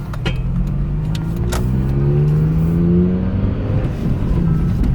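A 1991 Acura Integra with a newly installed exhaust revs up and drops off quickly, its engine note rising and falling steadily, loud and close, with no talking.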